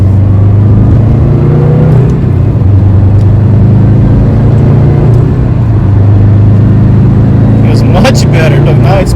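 A 2002-or-later Subaru WRX/STI fitted with a forged pitch stop mount accelerates on the road, heard from inside as a loud, steady engine drone that climbs gradually, with people talking over it.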